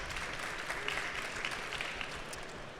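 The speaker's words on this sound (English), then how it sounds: "invite some applause very quickly, and then we'll get people to come up after we've done some clapping" Conference attendees in London applaud winners at a geospatial AI awards session, a sustained wash of many hands clapping at moderate volume from a seated crowd, with no talking.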